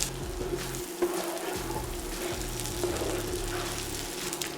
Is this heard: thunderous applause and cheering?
no